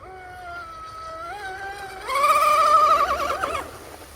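A small motor on a 34-inch wooden RC outrigger boat whines at a high pitch, revving up partway through and warbling as it speeds across water, then cutting back near the end.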